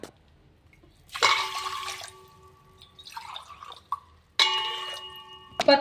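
Water is poured from a glass into a cooking pot for sugar syrup in two separate pours, each a bright splashing gush with a ringing metallic tone, near and quiet between, with no talking.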